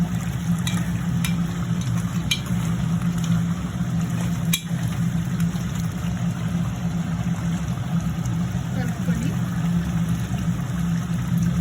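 Mutton curry is stirred in a pan, a steady low bubbling and scraping simmer with a few sharp clinks of the spoon against the pan, close and continuous.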